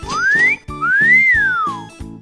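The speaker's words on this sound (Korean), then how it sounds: "휘파람 한번" Two long, bright whistles in a Roblox hide-and-seek game, the first rising and the second arching up then falling, heard loud over a steady, pulsing game-music beat with no talking.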